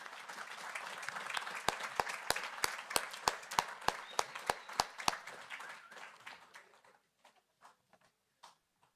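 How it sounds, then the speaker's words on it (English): An audience applauds at a city council meeting in Torrance, a dense burst of clapping that thins out into a few scattered last claps before falling quiet. "Please join me in giving her another warm round of applause to Councilwoman Bridget Lewis"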